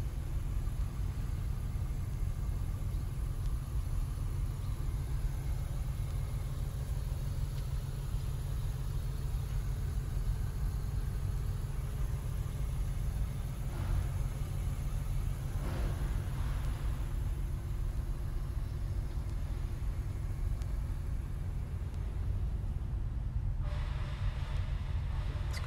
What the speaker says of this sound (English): Let's turn the fan off so we can hear the tone of the engine.